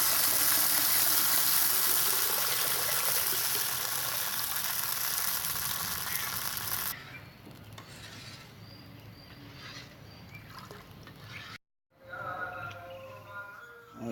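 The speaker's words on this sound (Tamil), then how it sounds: "ஒரு பங்கு எண்ணெய்க்கு 2 பங்கு கரிசாலாங்கண்ணி மூலிகை சாறை இடுறோம்." Karisalankanni herb juice poured into hot oil for a cough-remedy herbal oil sizzles loudly and steadily up close, then the hiss drops to a quieter bubbling with a brief pause and soft clinks.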